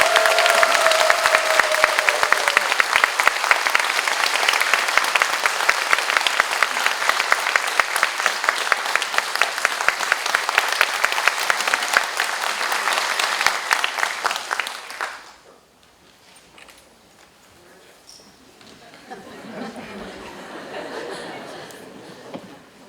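Sustained audience applause welcoming an archbishop of the Seoul Catholic archdiocese at a book concert, dense and steady for about fifteen seconds before dropping to quiet room murmur.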